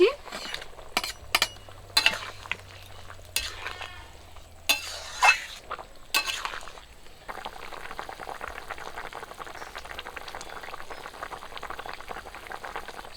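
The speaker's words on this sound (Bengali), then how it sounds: "মশলাটা একটু ভেজে নিয়েছি আলু আর চিঙে দিয়ে দেবো ভেজে রাখা মাছ দিয়ে দিচ্ছি" Spices, potato, ridge gourd and fried fish sizzle in a pan. The cooking hisses steadily while a spoon stirs and clatters in several sharp knocks early on, close by, with no talk.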